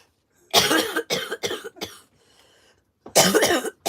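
Someone coughs in a run of harsh bursts, a cluster of three or four close together, then a pause and another strong cough near the end, loud and close in a quiet room.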